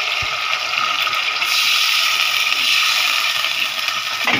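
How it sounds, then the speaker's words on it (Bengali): Water splashes and gushes into a hot pan of frying spices, a sizzling rush that swells after a brief clatter and continues steadily. "এখানে একটু পানি দিয়ে দিই"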